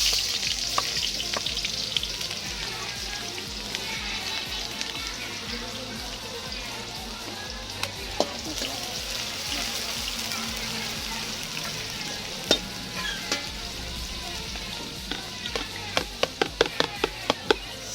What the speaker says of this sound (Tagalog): Unahin natin ng sibuyas kasi mas matagal tong magisa.